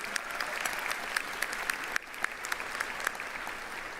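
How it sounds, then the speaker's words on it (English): Audience applause for the Amherst Jazz Band at a college honors induction ceremony: steady, moderately distant clapping from a seated crowd, sustained evenly with a few sharper individual claps standing out. "Can we give them a big round of applause as well?"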